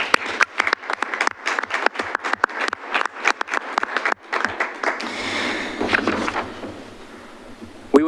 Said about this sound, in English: please join me in thanking and applauding those taxing districts that have partnered with and invested in Wilsonville